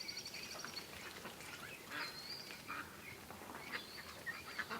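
Penned ducks quack and honk in agitated bursts, faint and somewhat distant, with no voices present.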